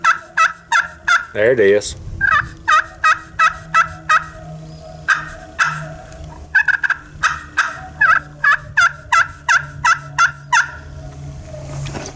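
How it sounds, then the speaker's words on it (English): A hand-played slate turkey call at close range runs out long strings of sharp yelps in steady rhythm. Short pauses separate the runs, and a few words are spoken between the series. "Y'all gonna hear more out of me with these slate calls."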